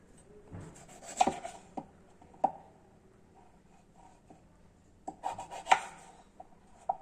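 A knife cuts carrot and potato on a board in a home kitchen, with quiet scattered chopping taps and scraping strokes in two short bursts separated by near silence.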